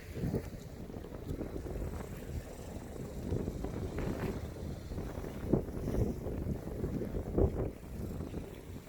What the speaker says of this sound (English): The wind is so nice here. The breeze is beautiful.